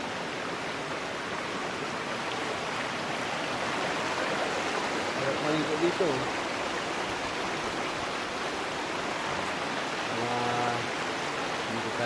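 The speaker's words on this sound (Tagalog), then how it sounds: "Ganda sa lagas-lasa ng tubig, oh." A river flows in a continuous broadband rush of water, steady and close throughout, while a person speaks briefly over it.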